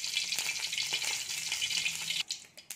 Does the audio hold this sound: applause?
no